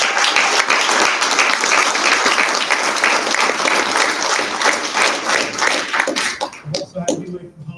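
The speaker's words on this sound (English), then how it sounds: "please give a big round of applause." Audience applause at a program completion ceremony for graduates of a Vincennes University Amazon maintenance technician program, loud and dense clapping from a room full of people that thins out into scattered claps at the end.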